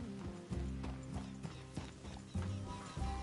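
Horse hooves clip-clop in a steady walking rhythm in Red Dead Redemption 2, the repeated thuds close and clear over low game ambience and faint clanking tack.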